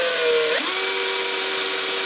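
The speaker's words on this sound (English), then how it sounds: "Let's drill a hole here." A power drill whines close by, drilling a hole for a simulator button box, its motor pitch dipping briefly then settling into a steady, high whir as it bores in.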